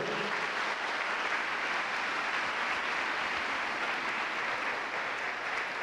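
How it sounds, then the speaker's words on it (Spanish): Steady congregation applause in a church service, a dense even wash of clapping that holds at constant level throughout without voices. "Dale un aplauso a la palabra de Dios, por favor."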